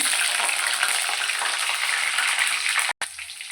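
Green chilies sizzle in hot oil with cumin seeds in a pan for egg masala curry, a loud steady broadband fry that cuts out abruptly near the end, then resumes more quietly.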